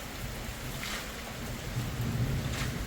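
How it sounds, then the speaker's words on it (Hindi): Heavy rain falls on a mountain village in Himachal Pradesh, a steady broadband hiss with a low rumble and faint gusty swells, fairly quiet and without talk. "बारिश और ज़्यादा तेज हो गई अभी।"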